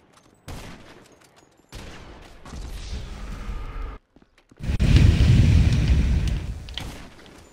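Gunfire in GTA Online, with bursts of rapid shots separated by brief silences and then a loud, dense, sustained volley at close range.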